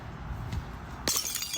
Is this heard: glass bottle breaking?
yes